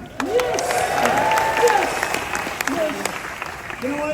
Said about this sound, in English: Let's give a big round of applause for Serena and Arvizu, everybody